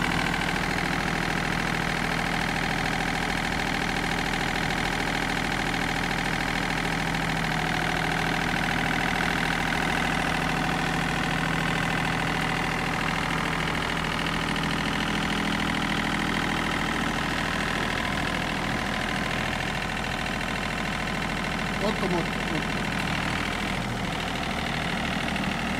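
A farm tractor's engine runs steadily in reverse, a constant close mid-to-low drone with a slight knocking texture that holds for the whole stretch, with no talking.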